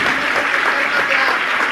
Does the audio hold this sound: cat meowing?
no